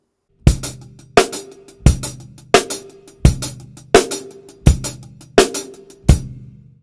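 Steady drum pattern of eight evenly spaced hits with hi-hat accents, each a sharp crack with a bright cymbal wash decaying between strokes, played alone.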